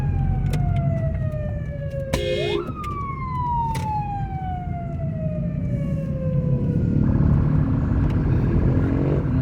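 An ambulance siren in Cebu City wails loudly, a long falling tone interrupted by a short yelp burst, sweeping down steadily amid traffic rumble, no talking.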